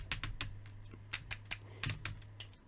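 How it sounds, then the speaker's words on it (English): Ratcheting leg joints on a Transformers Studio Series Dinobot Slug action figure click in quick sharp bursts, a dozen or so distinct ratchet clicks in an irregular rhythm, close and fairly quiet over a low steady hum. "as for his legs, yeah, you can hear that. Nice ratcheting joints"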